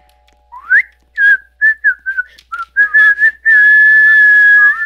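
A person whistles a bright melody in short separate phrases, ending on one long steady held note, close and clear.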